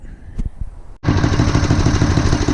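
A Simplicity 870 snow thrower with a rebuilt carburetor and new fuel lines starts up loud and close after a short, quieter stretch of knocking, then runs at a steady, throbbing engine drone.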